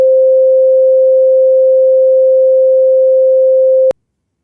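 A steady computer-generated sine tone produced from code holds a single unwavering pitch for about four seconds, then cuts off abruptly with a faint click, loud and alone.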